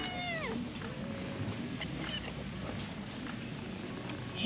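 A cat meows once, clearly and close, at an outdoor spot near the Langkawi Skybridge in Malaysia, followed by steady ambient background noise with faint clicks.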